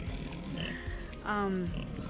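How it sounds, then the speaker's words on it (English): Hungry pigs in a farm pen grunt under steady background noise, and a short, rising squeal cuts through near the middle. "Hungry pigs are noisy pigs."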